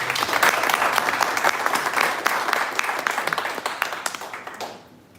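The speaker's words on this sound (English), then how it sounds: "a big round of applause for all of you" Audience at a corporate branch awards event gives a round of applause: many hands clapping loudly and steadily, then thinning to scattered claps before fading out.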